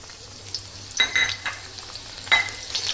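Chopped garlic fries with mustard seeds in hot white oil, a bright crackling sizzle broken by a few quick stirring scrapes, close and fairly loud.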